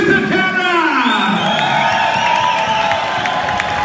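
An arena crowd at a boxing event cheers, whoops and shouts loudly and continuously as a fighter is introduced, a dense wall of voices with excited yells rising above it.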